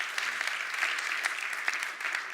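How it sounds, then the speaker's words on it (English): Audience applause at the Unreasonable Impact 2018 World Forum for an entrepreneur, a steady, dense patter of many hands clapping across the room at moderate volume, with no talk over it. "You can clap for him."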